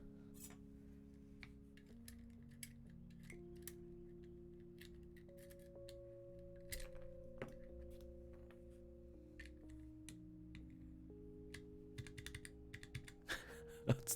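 Keys clacking on a macro pad fitted with Everglide Oreo switches and number-pad keycaps, a quiet run of separate taps at an uneven pace over steady tonal background music.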